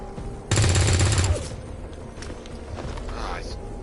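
Rapid burst of automatic gunfire from a weapon in XCOM 2, loud and close for under a second, followed by quieter battle noise.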